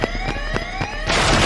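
A siren rises steadily beside rhythmic thuds in a red hallway of a Backrooms video game level, then a harsh noisy burst takes over. Loud and close, with no talking.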